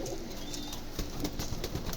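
Soft coos from four pigeons repeat over a steady background hum, with faint rustling and no voices.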